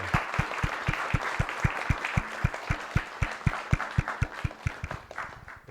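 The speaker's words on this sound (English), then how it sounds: "And now the applause of all the Science Cafe people." Audience at a science cafe talk on nuclear power applauding, a steady run of close, evenly paced hand claps lasting several seconds, with no speech.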